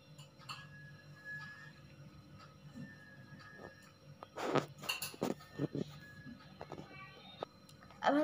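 A spoon stirs a pani puri potato mixture in a metal bowl, scattered clinks and scrapes that grow busier toward the end, soft and close, with faint background hum.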